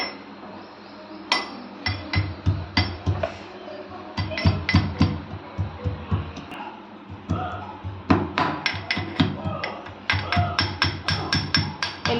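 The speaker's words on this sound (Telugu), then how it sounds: "ఎల్లిపాయలు ఇట్లా కచ్చాపెచ్చాగా దంచుకొని ఇప్పుడు కర్రీలో వేసుకోవాలి." Garlic cloves pounded coarsely with a pestle in a kitchen, for a sorrel and moong dal curry: steady, close rhythmic thuds with sharp clinks, in bursts with short pauses.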